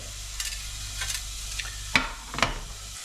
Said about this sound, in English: onions just gently sweating away